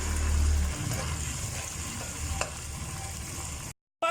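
Water poured into a hot frying pan while making spaghetti with salmon, giving a loud hiss and bubbling burst at first that settles into steady simmering sizzle, close up with no talk.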